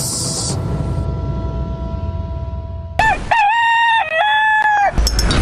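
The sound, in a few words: rooster crowing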